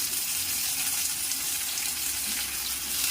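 Potatoes frying in a pan for a Bengali-style plantain flower (mocha) dish, with tomatoes going in: a steady, close hiss of sizzling oil that holds even and continuous, with no talking.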